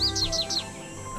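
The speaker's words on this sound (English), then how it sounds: "American goldfinch." An American goldfinch call from a Nancy Drew video game gives three or four quick, bright descending chirps in a short burst, clear and close.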